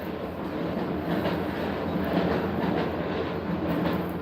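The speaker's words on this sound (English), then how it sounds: "Just in case you guys can hear trains in the background, it's because I have my door open." Metro trains run on nearby tracks, heard through an open door as a steady, continuous rumble with a faint clickety-clack of wheels, rolling on without pause and with no talking.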